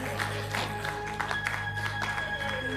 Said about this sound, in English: The brothers are clapping my father.